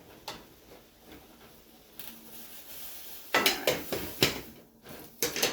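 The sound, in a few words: stirring carrots in a pot on the stove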